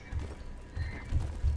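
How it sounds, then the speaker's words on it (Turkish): Donkey hooves clip-clopping in a video game, several distinct hoof thuds in an uneven walking rhythm, close and fairly loud, with no talking. "Şu eşeğin üstüne atlayayım dur."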